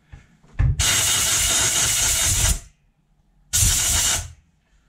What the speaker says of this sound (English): I just give that a blow through and it gets everything out really nicely.